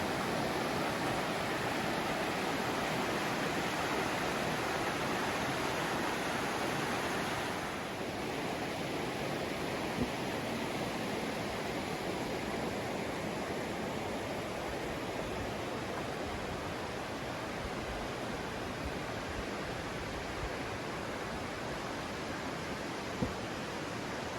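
Dense, constant roar of Bubbs Creek rushing in Kings Canyon, a loud broadband wash of mountain water heard up close without pause and with no voices.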